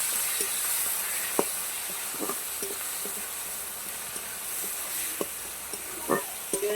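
Onions and tomatoes frying in a generous amount of oil in a pan, giving a steady close sizzle with scattered pops and crackles and occasional stirring scrapes, no talking.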